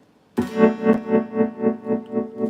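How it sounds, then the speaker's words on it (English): A Seymour Duncan Shapeshifter guitar pedal puts a steady tremolo on a sustained electric guitar chord, the volume pulsing evenly about four times a second after a sharp strike, close and alone. "you hear the vibrato sound of that? It's a nice tremolo."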